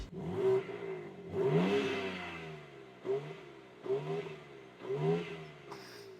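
A 650 horsepower BMW M car accelerating hard past on a roadside, engine revving up in several rising surges with brief gear-shift dips between, loud and close.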